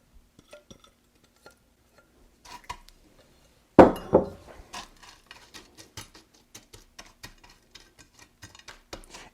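Pretzels clatter into a 9 by 13 baking pan, starting with a loud burst of clinks and then continuing as a run of small, close, scattered taps and rattles while they are spread out evenly.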